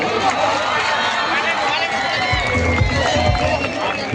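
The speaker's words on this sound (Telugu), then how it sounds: "వారికి ఒక్కసారి చప్పట్ల ద్వారా ఆహ్వానిద్దాం" A crowd at a welcoming ceremony in Utnoor applauds guests arriving on stage, producing a dense, steady wash of clapping that holds throughout, with a few lower thumps near the end.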